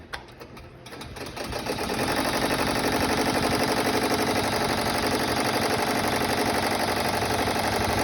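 A chenille-fabric embroidery machine starts up and settles into fast, steady stitching, a dense mechanical rattle that runs loud and continuous once underway.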